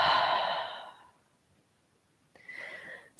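A long, audible exhale during a yoga twist practice, a close breathy sigh that fades out, followed by a second softer breath after a short pause.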